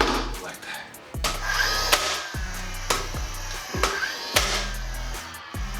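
An 18-gauge brad nailer running on a knockoff battery fires about six times at an uneven pace, each shot a sharp snap followed by a short whirring recharge, close by and punctuated by someone speaking.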